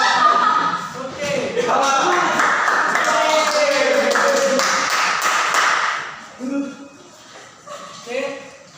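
A group claps together in quick rhythmic bursts while voices chant a clapping cheer in Indonesian over it, followed by a few quieter spoken words.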